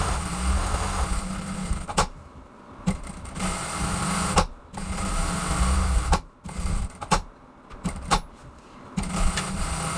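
A sewing machine stitches a straight seam in fabric for a bag, running in steady whirring bursts broken by brief pauses and clicks, close and continuous with no talk over it.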